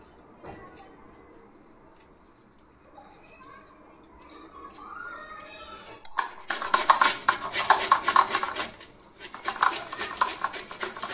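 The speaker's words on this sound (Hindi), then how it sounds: "तो मुझे लगता है इसको कद्दूकस करना पड़ेगा मुझे।" A hard breakfast ingredient is grated by hand in a home kitchen, producing rhythmic rasping strokes that start abruptly after a stretch of quiet talk and a few small clinks, then continue loud and close.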